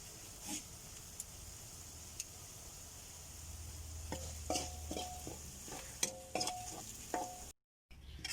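Ingredients for Thai chili paste crisping in a pan, a quiet continuous sizzle with scattered crackles and a few spoon taps on the pan, alone and fairly faint.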